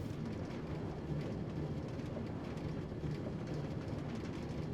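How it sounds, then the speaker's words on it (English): A train climbs booster tracks in a Minecraft modpack, a continuous dense rumbling clatter at steady loudness with no pauses and no speech. "Climb, little train."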